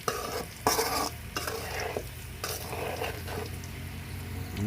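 Potatoes sizzle as they fry in a pan and are stirred, with scraping strokes and bursts of crackle over a steady bubbling hiss. Close by, and no voices.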